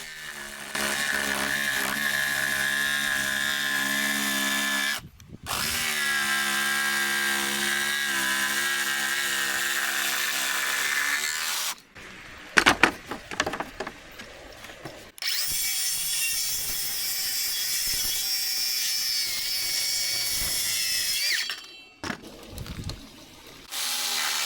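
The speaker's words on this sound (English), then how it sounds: "it's just a case of following them lines with the jigsaw, really" A jigsaw cuts timber along marked lines for building a jetty, whining in long, loud, steady buzzing runs of several seconds each. Brief pauses and clattering handling noises come between the cuts.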